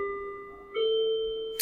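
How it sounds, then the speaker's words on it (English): Bells ringing in sustained, sustained clear tones, a steady chime with a second strike layered in partway through, close and fairly loud, with no talking over it. "got some bells coming our way"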